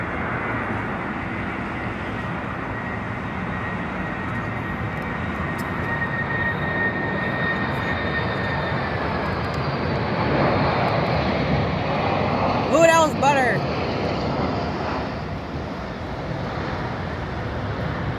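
An Atlas Air Boeing 747-400F freighter's jet engines roar loudly and steadily as the aircraft passes, with a broad rushing drone that swells in the middle and a whining tone, heard without talk.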